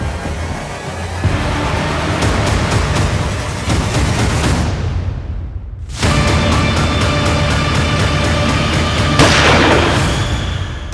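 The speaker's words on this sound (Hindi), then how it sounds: "ये गोली चलने की आवाज थी ना?" A rapid burst of gunfire crackles repeatedly, pauses briefly, then resumes with more sharp shots over a steady rumbling background.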